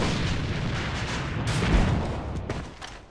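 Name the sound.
grenade explosion in video game AVA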